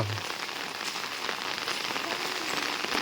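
Steady rain patters densely on a surface nearby, a constant broadband hiss with no voices.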